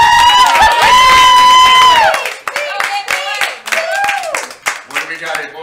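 A game-show studio audience cheers and claps, loud and close, with a sustained vocal shout first and then scattered whoops and voices breaking through the clapping.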